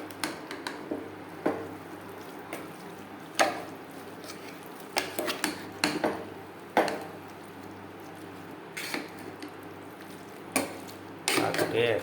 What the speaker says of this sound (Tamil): அடிப்பொலி ஒரு கிண்டு.